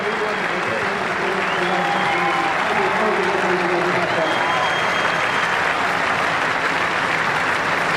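A cricket crowd applauds and cheers Ganguly's dismissal for 141 against Pakistan at a Carlton United series match, a dense, loud, sustained roar of clapping, with a commentator's voice over it.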